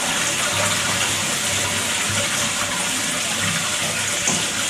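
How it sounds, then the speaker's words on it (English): Water rushing steadily from a tank being drained during installation of a Coway BA13 bidet seat, a continuous close gushing flow that holds constant and alone throughout. "close the water supply, drain the tank"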